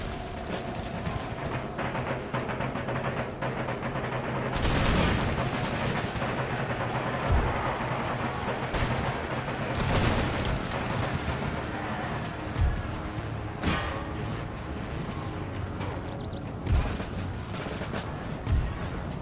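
Troops firing muskets in a Total War battle set in the American westward expansion era, loud cracks and booming volleys bursting repeatedly over a dense, continuous battlefield din.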